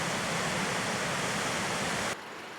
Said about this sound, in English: The Athabasca Falls are a natural work of art, sculpted by glacial ice and river water.